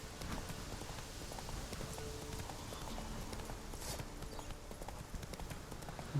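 The horse Roach clip-clops along in The Witcher 3, its hoofbeats faint and steady in quick succession over a soft backdrop of rain.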